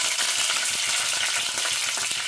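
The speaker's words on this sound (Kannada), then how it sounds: "ಸಾಸಿವೆ ಸಿಡಿಯೋ ತನಕ ಬಿಡಬೇಕು. ಕಟ್ ಮಾಡಿ ಇಟ್ಕೊಂಡಿದ್ದಂಥ ಹಸಿರು ಮೆಣಸಿನ್ಕಾಯಿನ ಹಾಕಿದ್ದೀನಿ." Mustard seeds and chopped green chillies frying in hot oil in a pan, a steady loud sizzle with dense crackle and spatter throughout, no talking.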